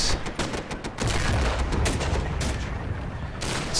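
In the video game Steel Fury, a field anti-tank gun opens up near a Pz.III tank. Sharp booming shots and rapid cracks fire in a dense, continuous volley.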